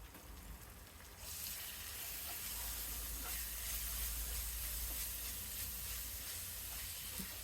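Ginger-garlic paste hits a pan of lightly browned onions for achari chicken, and after a quiet second a soft, steady sizzle and hiss sets in and continues.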